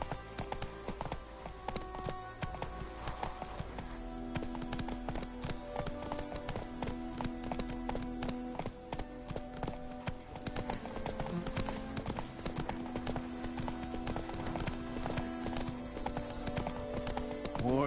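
Horse hooves gallop in The Witcher 3 with a fast, steady clip-clop that runs throughout, set against tonal game music and ambience.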